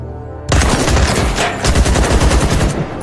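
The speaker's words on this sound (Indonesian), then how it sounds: "Akhirnya Kaleniskop pun nekat menguji senjata di tempat umum." An AK-47 rifle is test-fired in a public place in a film scene, a sudden loud burst of rapid automatic gunfire that runs on continuously for a few seconds.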